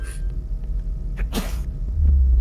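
A single short sneeze bursts out midway over a quiet background hum, followed by a low rumble at the end.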